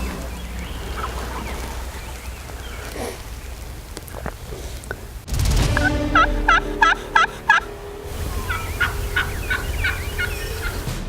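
Wild turkey hen calling in timber beside a 40-acre cornfield, answered by a glass turkey call; several sharp, close yelps arrive in a quick series midway, with softer clucks before and after amid outdoor ambience.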